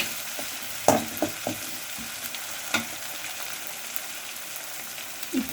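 Onions with ginger-garlic paste sauté in a pan, a continuous frying hiss broken by a handful of sharp scrapes and clacks of stirring, close and moderately loud.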